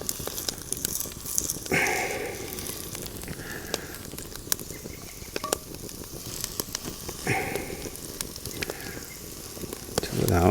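Hash browns sizzle and crackle in a pan over a camp stove at a wilderness hammock campsite, a steady moderate frying hiss with occasional louder pops and stirring scrapes.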